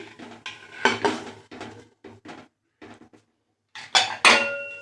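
Metal pressure cooker lid, gasket and whistle clattering and knocking as they are fitted together while baking a warm, soft chocolate cake, with several short clanks and scrapes separated by brief pauses, close and fairly loud.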